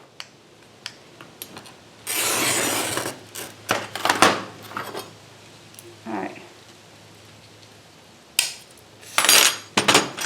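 Loose pieces of broken glass being handled and sorted by hand, giving a few scattered clinks and rattling bursts of clattering glass with quiet pauses between them.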